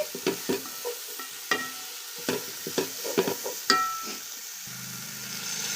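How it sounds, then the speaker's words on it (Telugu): Green chillies, coriander and mint fry in a pot for a country-chicken biryani, with a soft, low sizzle under repeated scraping and clinking strokes of a stirring spoon. "మొత్తం చక్కగా మిక్స్ చేసేసుకొని చక్కగా ఫ్రై చేసేసుకోవాలి"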